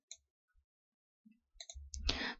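Computer mouse clicks on an inquiry button in accounting software: a couple of small sharp clicks, then a short cluster of clicks and a brief burst of louder rustling noise at the end, with no voices.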